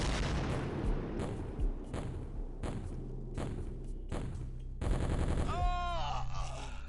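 Rocket fire in the X-Com Files video game: a run of heavy, evenly spaced blasts lands close and loud, then a fast rising whoosh and whine trails off at the end.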